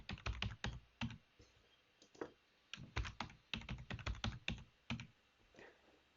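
Fingers type a password on a computer keyboard in quick irregular bursts of crisp, close key clicks with short pauses between runs, quiet and alone.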